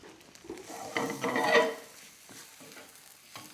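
Onions with turmeric and garam masala stirred in a frying pan, a quiet sizzle under a scraping swell of the spoon that peaks and fades, followed by light clinks.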